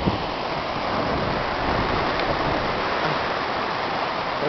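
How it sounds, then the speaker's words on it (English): Pacific Ocean surf breaking along the Oregon/California coast, a steady, loud wash of waves and rushing water filling the scene without pause, with some wind noise on the microphone. "There's the ocean. Look at the tide."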